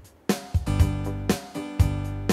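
A Casio CT-S400 keyboard plays auto-accompaniment on tone 2, giving loud rhythmic chords with punchy bass notes and drum hits in a steady groove, with no talking.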